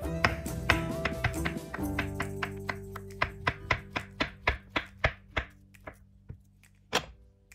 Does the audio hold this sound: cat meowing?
no